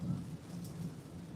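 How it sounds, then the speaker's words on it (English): Heavy rain during a storm heard from inside a car while driving, a low steady rumbling wash of downpour and road noise, fairly faint, with no talking. "this very big rainy weather that's going on"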